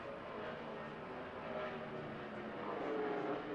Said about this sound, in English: Down the back straight, roaring, making a beautiful sound